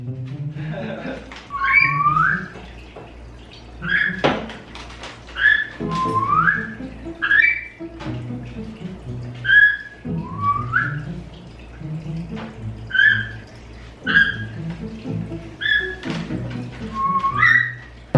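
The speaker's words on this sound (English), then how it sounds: "She's so vocal this morning. She's making the nice whistles." A pet bird whistles repeatedly indoors in the morning, clear rising and falling whistle notes in a steady rhythm, interspersed with soft clicks and light background knocks.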